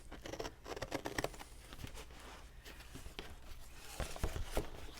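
Cheap one-dollar scissors snip through cardboard in quiet, irregular crunching cuts and rustles, faint and close, with no talking.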